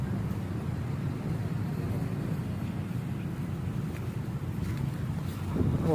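Steady, heavy wind buffeting the microphone, a constant rumbling roar with no break throughout, outdoors at Sawangan Park in Legazpi, Albay.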